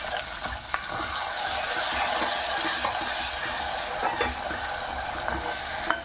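Ground spices, chilli powder, turmeric, coriander and cumin powder with salt and paste fry alongside green peas for an aloo samosa filling, a continuous close sizzle with occasional stirring scrapes, no talk.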